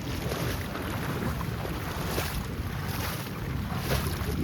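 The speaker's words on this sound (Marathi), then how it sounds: "हे पाणी बघा, हे पाणी पूर्ण नदीला जातं असा पूर्ण" Floodwater from heavy monsoon rain in Usarli village, Panvel, rushes steadily toward a swollen river, a continuous broadband roar mixed with gusting wind buffeting the microphone.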